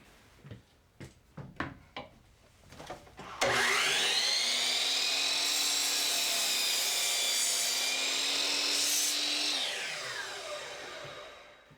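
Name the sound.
sawing four wood pieces at once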